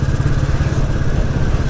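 A Royal Enfield Bullet 350 motorcycle engine thumps steadily while riding on back roads, a loud, close, continuous low pulsing beat with wind rush over it and no speech.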